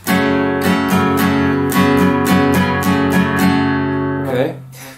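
Acoustic guitar strumming pattern, with rhythmic down and up strokes ringing out clearly and evenly for several seconds before a final muted stroke, with no talking.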